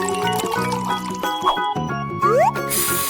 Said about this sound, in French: il ne reste plus qu'à tout verser dans la machine et mélanger